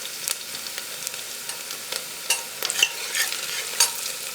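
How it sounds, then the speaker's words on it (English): Softened onions with chopped ginger sizzling and frying in a pan for a dhaba-style aloo gobi curry, a steady close hiss broken by occasional scraping stirs of a spoon, with no voices. "Mix everything well, and we'll cook these onions till they become soft and change their color."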